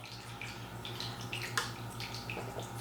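A splash of water trickles and drips into a glass of bourbon, with small wet drips and one brief clink-like splash over a steady low background hum.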